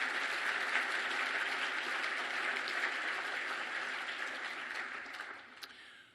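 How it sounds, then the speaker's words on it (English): Gala audience at a hospital foundation fundraiser applauds in a large hall, steady many-handed clapping that is fairly faint and distant, gradually thinning out toward the end. "I think that also deserves a round of applause."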